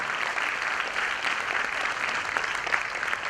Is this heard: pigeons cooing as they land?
no